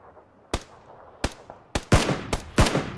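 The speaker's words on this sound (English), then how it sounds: "There's like an M24 shooting at you." Sharp rifle shots from an M24 sniper rifle in a video game, about five cracks at irregular intervals, the later ones louder and closer with ringing tails, no talk.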